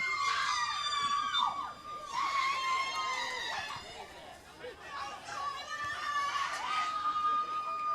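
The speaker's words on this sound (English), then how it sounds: "We've got a boisterous crowd here tonight." Spectators at a night men's college soccer game chatter and shout from the stands, with high children's cries and whistles rising over a steady crowd babble, moderately distant.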